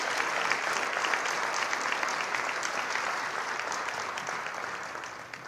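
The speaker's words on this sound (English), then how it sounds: "giving them a big round of applause" An audience at a city employee recognition ceremony applauds award recipients, steady clapping from many hands that holds strong throughout and fades slightly at the end.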